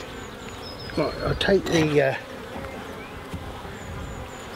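Honeybees buzz in a steady, close drone around beehives in an apiary, with someone briefly speaking over the hum.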